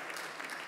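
A church congregation claps during a sermon, a brief burst of scattered applause from a seated crowd, moderately loud and unbroken for under a second.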